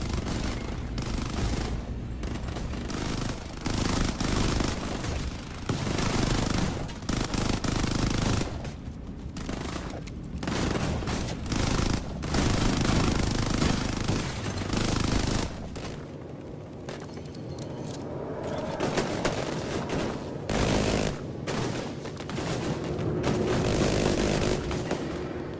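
Dense, continuous gunfire from turrets and rifles in the shooter game Warface, with rapid bursts and booming impacts that swell and fade across the whole stretch, loud and close, with no talk over it.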